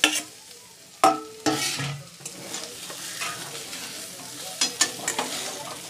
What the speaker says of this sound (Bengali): এবার আমি এটাকে কষিয়ে নেব, ভালো করে কষিয়ে নেব।